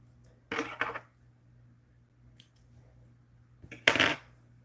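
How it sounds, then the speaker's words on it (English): Scissors snipping loose threads on a sewn bodice and skirt, a few short crisp metallic snips in two small bursts, close and quiet, with near silence between them. "Let's get our pins out and cut all of our loose threads"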